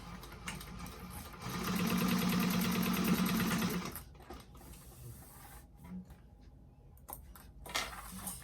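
A sewing machine stitches back and forth across a bag, giving one steady, close, loud whirring run of about two seconds, followed by quieter handling sounds.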